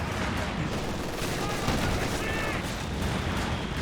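Dense, continuous battle noise from Company of Heroes 2: a steady wash of small-arms fire and repeated Pak 40 anti-tank gun shots, loud and busy throughout with a few sharper reports standing out.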